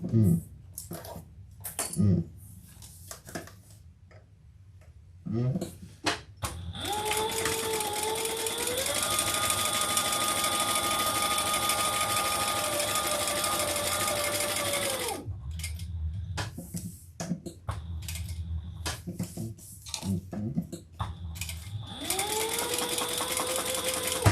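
A sewing machine top stitches a handbag, running in long steady bursts of close, loud mechanical whirring, with short pauses and handling clicks between runs and a person speaking briefly.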